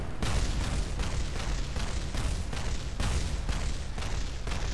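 Rocket parts blow up in Kerbal Space Program, a loud, unbroken roar of explosions with repeated bursts rumbling on and on without a pause.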